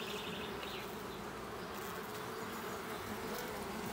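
Honey bees swarm around a beehive with honey-filled supers in a dense, steady buzz that holds for the whole stretch. The sound is close and continuous, with no voices.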